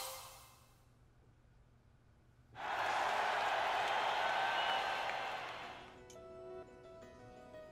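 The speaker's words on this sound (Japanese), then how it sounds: "この歓声はあなた方に向けられています。" After a quiet stretch, a video game crowd suddenly erupts into loud, sustained cheering and applause that gradually fades away.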